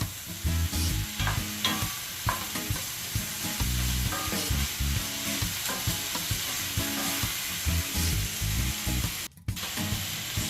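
Seasonings for Jamaican coconut curry shrimp sauté in a pan with a continuous close sizzle. A utensil scrapes and stirs in repeated strokes, and no one speaks.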